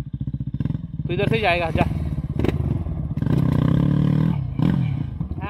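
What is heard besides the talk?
motorcycle engine revving with wheel spinning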